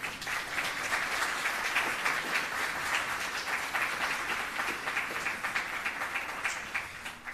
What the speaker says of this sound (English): please give a round of applause to our member state, the people and government of Jamaica.